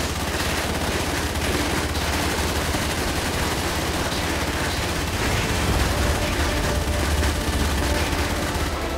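A smart turret in a video game fires a continuous, dense stream of loud, close gunfire that stays steady and unbroken throughout.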